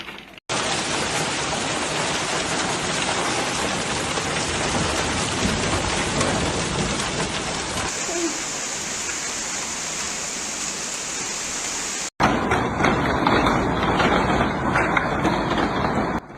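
Hailstorm in France pounding down as a dense, loud, continuous roar of ice hitting surfaces, with abrupt shifts in texture between recordings and no voices.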